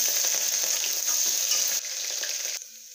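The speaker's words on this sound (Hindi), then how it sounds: "मीडियम फ्लेम पे बिल्कुल इतना ही सौते कर लेना है तड़के को।" Garlic and ginger sauté over a medium flame in hot mustard oil for a tadka. A dense, steady sizzle with crackling spatter fills the sound up close, then it drops sharply quieter near the end, with no voices.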